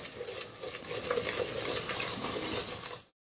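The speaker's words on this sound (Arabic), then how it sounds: "فضلت اقلب فيها كده لحد بس ما ريحه البهارات بتاعتنا طلعت" Chicken shish tawook stirred with spices in a hot pan, a steady scraping stir over continuous sizzling and frying, close and fairly loud for about three seconds before stopping.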